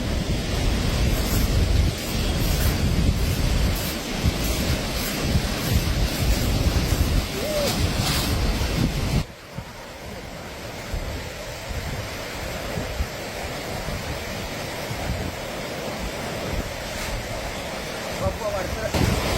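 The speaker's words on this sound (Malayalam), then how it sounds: "എപ്പോഴും ഈ പുഴയ്ക്ക് വരാൻ പറ്റില്ല കാരണം മഴവെള്ളപ്പാച്ചിലൊക്കെയുള്ള സ്ഥലമാണ്" A mountain river at Chooralmala, prone to flash floods, rushes as a continuous broadband roar close to the microphone, dipping slightly in loudness about halfway through.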